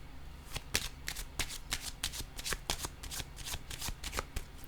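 Playing cards handled and laid down one by one during a card game, a quick run of close, crisp papery flicks and slaps with no talking.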